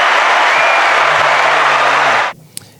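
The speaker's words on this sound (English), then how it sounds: "can we give a round of applause for Max?" A crowd claps for Max in a dense, even round of applause that cuts off abruptly after about two seconds, followed by a single small click.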